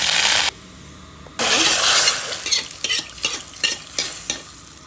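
Panch phoron and chopped garlic hit hot oil with a loud sizzle, which cuts off briefly and then returns, followed by a series of short scraping stirs in the pan.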